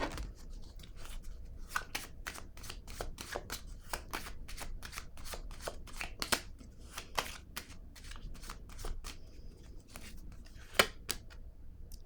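Cards being shuffled during a tarot-style reading, a quick run of crisp riffling flicks and slaps with a few louder snaps near the end, close up and with no talking.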